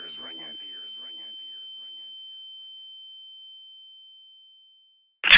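A thin, high-pitched ear-ringing tone mimicking tinnitus in a rap song holds steady for about five seconds after a brief vocal line, slowly fading before a loud burst cuts in at the end.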